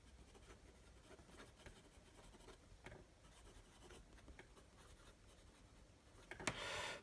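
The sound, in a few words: Lamy Safari fine nib fountain pen writing on Rhodia paper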